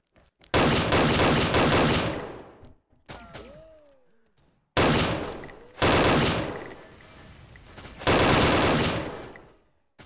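Bursts of rapid automatic fire from a Golden AUG assault rifle in the video game XSHOT, loud and close, several long volleys separated by brief pauses with faint clinks and shell sounds between.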